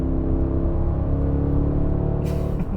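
A Cadillac Escalade's 6.2-liter naturally aspirated small-block V8 gasoline engine holds a steady, loud, deep rumble with a constant whirring drone, heard from inside the vehicle with no talking.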